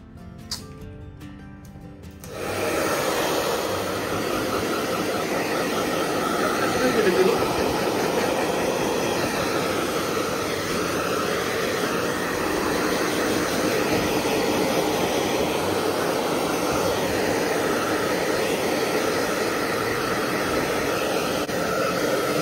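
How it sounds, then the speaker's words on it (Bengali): A hair dryer blows on a damp garment. Its steady, loud whooshing whir starts after a short quiet lead-in and runs continuously to the end. "কি করবো তাই ভাবছি একটু ড্রায়ার দিয়ে শুকিয়ে দিই"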